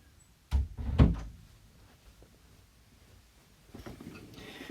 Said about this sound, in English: I'm just going to close the door here.